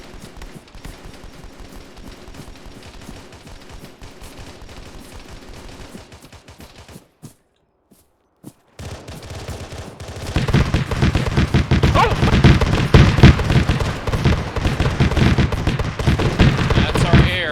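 Friendly aircraft fire on troops in the ARMA 3 military game, heard as sustained, dense gunfire and explosions that drop out briefly midway, then return louder and heavier, while players talk over the radio.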